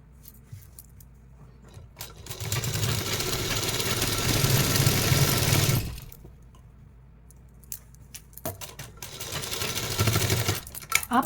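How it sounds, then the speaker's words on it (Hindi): A sewing machine stitches a pocket onto a salwar in two long steady runs of whirring, rattling needle motion, close and loud, separated by a pause with small handling clicks. "ये भी इस तरीके से फोल्ड कर लेना और यहाँ से आप सिलाई लगा लेना।"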